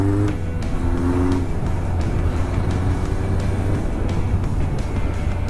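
A car rushes past on a winding mountain road beside the Watanose Dam lake, its steady engine roar blending with continuous wind and motorcycle engine drone for several seconds.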